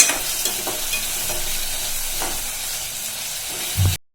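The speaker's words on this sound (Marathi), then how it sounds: "अद्रक घेतले थोडंसं ठेचून, छान परतून घ्यायचं आपल्याला।" Crushed ginger fries in a pan and is stirred, giving a steady close sizzle with soft scraping stir strokes, a louder clatter near the end, no talking.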